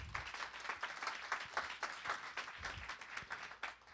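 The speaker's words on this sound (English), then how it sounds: "Let's give them a round of applause." Summit audience giving a round of applause to elected officials at a small-city economic leadership gathering; fairly faint, uneven clapping from a modest crowd, rising and falling for several seconds.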